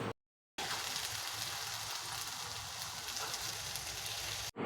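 Small pieces of chopped chicken land in a hot pan for a chicken roast and sizzle loudly. The hiss is dense and continuous, with a short silence at the start.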